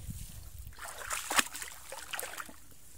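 Water trickles and sloshes into a flooded rice paddy, a steady close wash with a brief louder splash near the middle, running without any talk.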